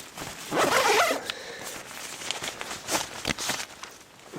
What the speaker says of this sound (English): Where's the zipper?